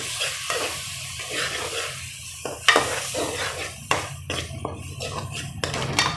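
Beef liver fries on a tawa with salt, red chilli, turmeric and coriander powder, sizzling as a spatula stirs it in irregular scrapes and knocks against the metal, close up with no talking.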